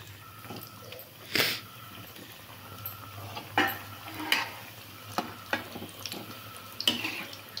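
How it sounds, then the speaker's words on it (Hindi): Cauliflower pakoras are deep-fried a second time, oil bubbling and hissing softly while a few louder splashes and stirring scrapes break through at irregular intervals. "अब इन पकौड़ियों को भी फिर से फ्राई कर लेंगे।"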